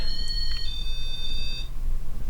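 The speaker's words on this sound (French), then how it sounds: "Le pod qui se déclenche encore" REM pod paranormal detector alarm sounding during a paranormal investigation, a steady electronic multi-tone beeping alarm that holds for about a second and a half, then cuts off, leaving low background hum.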